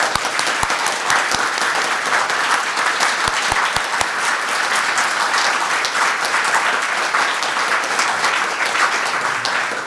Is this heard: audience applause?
yes